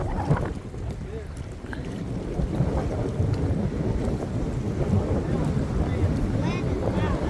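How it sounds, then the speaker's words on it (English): Strong wind blows outdoors by the water while catfishing, buffeting the microphone in loud, continuous low rumbling gusts throughout. "This wind's about pouring out here, y'all."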